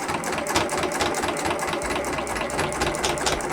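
A sewing machine runs steadily at long stitch length along a selvage-edge fabric zipper pouch, a continuous even whir and rapid needle chatter with no pauses.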